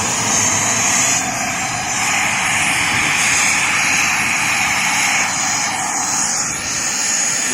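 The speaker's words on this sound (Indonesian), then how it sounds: "Engine started." A Cessna Citation V military jet, stopped for refuelling in Aceh, runs with a loud, steady engine whine and roar that stays constant and close throughout.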